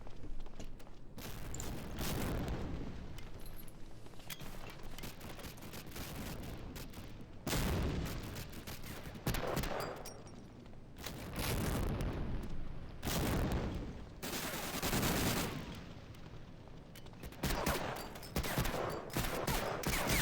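Bursts of automatic gunfire in the video game Escape from Tarkov come in several loud volleys with short gaps between them, spread across about twenty seconds.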